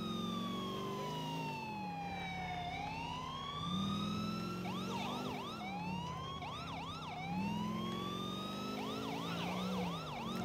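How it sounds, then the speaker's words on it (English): A police car siren in the video game Grand Theft Auto IV cycles through long rising and falling wails, then switches to rapid yelping whoops, loud and continuous with no talk over it. "I like the siren."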